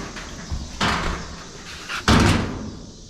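The door of a 1934 Chevy truck cab shuts with two solid metallic thumps, the second louder and closer, against a faint background hum.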